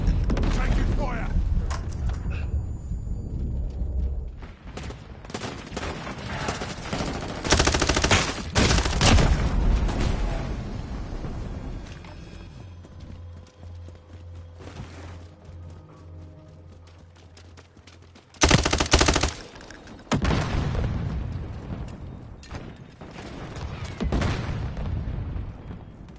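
Rapid gunfire and combat bursts in Call of Duty Modern Warfare, loud and sustained with sharp peaks and brief lulls, with voices talking over parts of the firefight.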